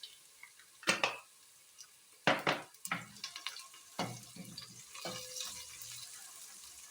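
Onions browning in a pot for a vegetable stew, stirred now and then: irregular scraping clatters and clinks over a faint, steady sizzle, close by with no talking.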